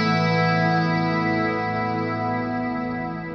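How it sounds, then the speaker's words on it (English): Clean electric guitar chord through a Fractal Band Commander amp model with lush reverb, a single strummed chord ringing out and slowly decaying over a few seconds. "A just incredibly beautiful, lush sound. I'm getting it from a Band Commander amp"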